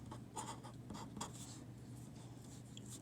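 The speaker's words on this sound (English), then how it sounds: "I'm going to write the equation again" A pen or pencil scratches out an algebra equation by hand in short strokes, faint and close, over a steady low room hum.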